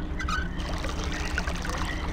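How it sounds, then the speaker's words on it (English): Steady rushing water pouring through a pipe in Myst's Channelwood Age, a dense continuous flow with a low rumble that holds constant throughout. "Well, that's definitely the sound of water flowing through there."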